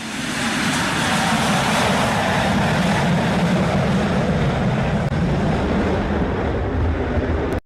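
An aircraft comes in for an emergency landing in strong, gusty wind, heard as a loud, unbroken roar of wind and engine noise that holds steady throughout and cuts off abruptly at the end.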